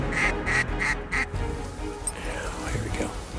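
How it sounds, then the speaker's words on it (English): Ducks and geese call at a waterfowl roost during a hunt, four quick loud quacks up front, then a chorus of more distant honks and calls mixed with people talking. "You could hear thundering calls of geese and ducks everywhere throughout this roost."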